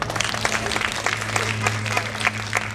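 An outdoor comedy show crowd claps steadily for a grandparents' 50th wedding anniversary, a dense, lively patter of many hands at moderate distance with a low steady hum underneath.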